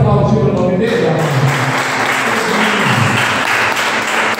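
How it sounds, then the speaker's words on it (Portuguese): A church congregation claps loudly during a worship service, a dense wash of hands in a reverberant hall, with a sustained musical or vocal tone under it at first and crowd voices mixed in. "Você pode aplaudir o nome dele?"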